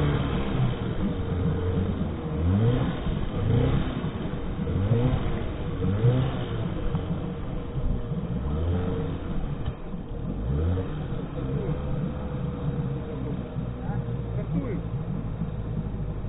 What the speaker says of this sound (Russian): Завели мотор с первого раза.